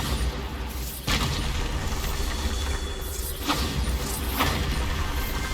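Bombarda blasting spell detonating in Hogwarts Legacy, heard as sharp bursts at irregular intervals over a dense, continuous rumbling game soundscape with mechanical creaks, no talking.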